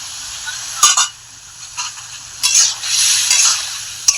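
Potatoes and vegetable stalks being stirred in a pan for a grass carp fish curry, with intermittent scraping strokes over a soft sizzle and a few louder bursts of stirring.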